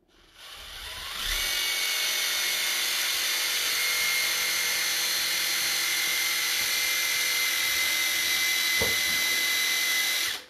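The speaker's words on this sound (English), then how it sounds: "I needed to use the paddle bit. So the first thing I want to do is drill out this leg" A drill with a paddle bit whines loud and steady for about ten seconds, boring into the wooden leg of a cedar chest, with a brief thump near the end before it winds down.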